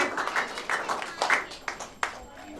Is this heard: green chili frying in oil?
no